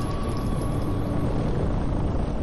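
A helicopter in the video game Condemned 2: Bloodshot gives off a dense, unbroken rotor drone. It is loud and close, holding steady throughout with no talking over it.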